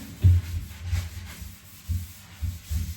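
Low, soft rubbing strokes of a bike being scrubbed clean, repeating in an uneven rhythm, close and fairly quiet, with no talking.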